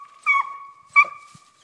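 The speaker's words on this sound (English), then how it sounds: "I want Bo to sit there and bark for me." A Walker coonhound pup gives two short, close barks with a whiny, yipping tone, separated by a brief pause in an otherwise quiet outdoor setting near a tree.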